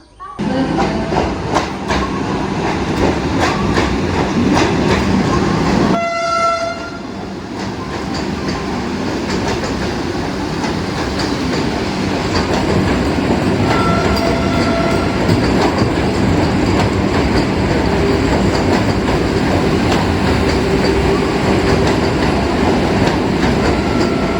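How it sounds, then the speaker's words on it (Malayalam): The Mangaluru Central–Madgaon Vande Bharat Express passes close by at a junction it skips without stopping, a loud sustained rush of rolling wheels and rail clatter with a brief horn-like tonal burst early on. "മംഗളൂരു സെൻട്രൽ മഡ്ഗാവ് വന്ദേ ഭാരത് എക്സ്പ്രസ് ആണ് ഇപ്പോൾ മംഗലാപുരം ജംഗ്ഷൻ സ്കിപ്പ് അടിച്ചിട്ട് അങ്ങോട്ടേക്ക് പോയത്"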